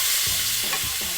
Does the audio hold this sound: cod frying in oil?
yes